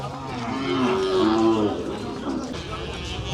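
A cow at a busy cattle market gives one long, loud, low moo up close, with crowd noise and murmured talk around it.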